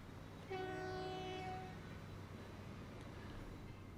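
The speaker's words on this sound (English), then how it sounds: "And we have one of our iron ore trains." An iron ore freight train in the game Transport Fever, set in the early 1960s, sounds a single horn blast of about a second over a low, steady rolling rumble that continues after the horn stops.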